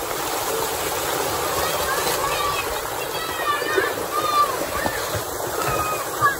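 Rushing, splashing water gushes steadily from a large village tube well nearby, with voices talking faintly over the constant flow.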